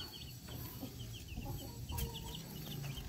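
Baby chicks chirp outdoors in small high peeps scattered over low clucking from hens, faint and steady across a few seconds.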